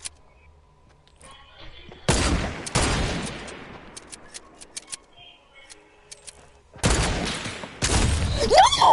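Gunshots in a deathrun video game, a few sharp loud blasts separated by quiet stretches, each with a short decaying tail, plus scattered faint clicks between them.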